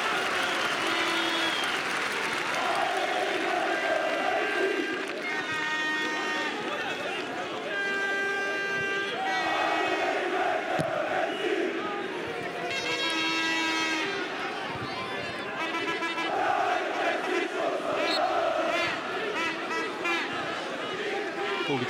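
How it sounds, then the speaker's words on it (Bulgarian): CSKA football supporters chant and roar in the stadium during a match against Ludogorets, a loud sustained crowd with rhythmic chanting and whistling swells while a commentator talks over it. "Публиката на ЦСКА се опитва да вдъхнови"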